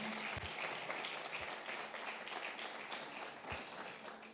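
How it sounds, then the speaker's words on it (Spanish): Church congregation clapping for the Lord during a sermon, a steady wash of applause at moderate level with a few sharper thumps, no speech over it. "den un fuerte aplauso al Señor"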